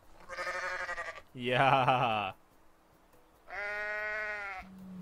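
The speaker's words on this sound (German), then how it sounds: "Schreiziege." The screaming goat in the Goat Simulator video game lets out three loud, drawn-out, wavering bleats, each about a second long with short gaps between them, and someone speaks briefly.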